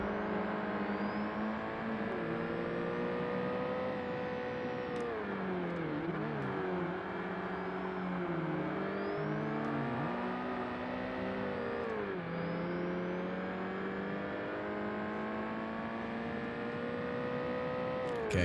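Racing car engine in Forza Motorsport revving continuously through gear changes, a steady high whine that dips and climbs with each shift, loud and sustained with no talk.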